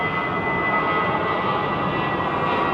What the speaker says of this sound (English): Virgin Jet's going out.